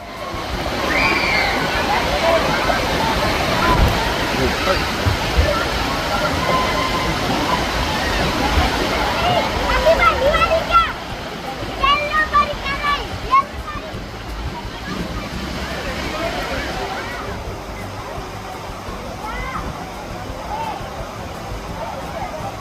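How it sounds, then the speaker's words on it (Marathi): Water pours and splashes down steadily at the Imagica water park in Khopoli, a dense, continuous roaring rush close by, with voices and shouts mixed into the spray. "या वरून पडणाऱ्या पाण्याखाली भिजायला तो खूपच मजा येत होती"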